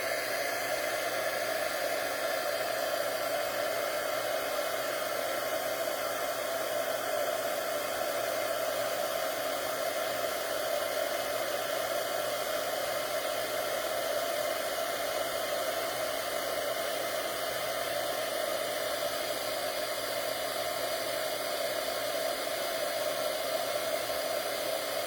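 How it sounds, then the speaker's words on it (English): A heat tool blows steadily while melting embossing powder, a constant hair-dryer-like whoosh with a fan drone, unbroken and close for the whole stretch. "I have had this heat tool for a very long time and this embossing powder."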